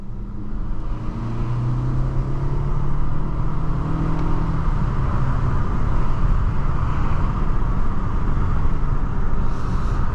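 A 2024 Nissan Altima SR with a CVT accelerates along a bumpy road in Teton National Park, its steady engine drone and road rumble heard from inside the cabin, with no talking.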